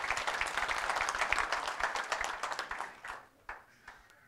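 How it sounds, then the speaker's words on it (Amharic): A church congregation applauding, a dense burst of clapping that thins out and fades to a few scattered claps near the end. "አጨብጭቡ ለጌታ ክብር"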